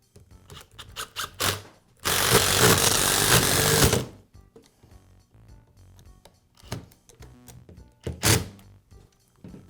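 Power screwdriver driving gearbox screws into a Milwaukee impact wrench motor housing, with a sustained two-second whir between clicks and clunks of handling and a shorter burst near the end.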